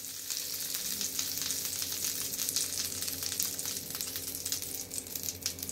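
A mini uttappam fries on a pan with butter and a sprinkle of chili powder, sizzling and crackling steadily and close up, with small bright pops throughout and no talk.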